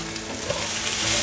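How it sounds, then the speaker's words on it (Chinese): Carrots go into a hot pan with king oyster mushrooms that are already lightly browned, and everything is stir-fried quickly. A steady close-up sizzle holds the whole time with a few soft stirring scrapes, and nobody speaks. "炒至杏鲍菇有微焦了，现在放入红萝卜，快速翻炒。"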